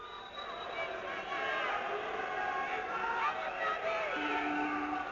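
Crowd at an old boxing match protesting as the round runs past time, a steady mass of shouting and whistling voices heard from a distance.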